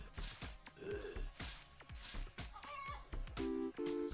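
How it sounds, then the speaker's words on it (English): Clucking and a rooster-like crow from a chicken-hatching event in the slot-machine video game Luck be a Landlord, a run of short synthetic cackles and chirps with a few sustained chime tones near the end, clear and close. "Nice, that's another chicken hatched."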